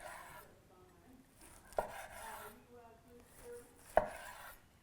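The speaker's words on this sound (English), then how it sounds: "I think we want to kind of slice this way because we're going to put some slices on the plate" A knife cutting through a ribeye steak on a board, two sharp knocks as the blade hits the wood, with quiet slicing between them, close and without talk.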